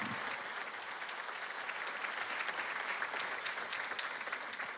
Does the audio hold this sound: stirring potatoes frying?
no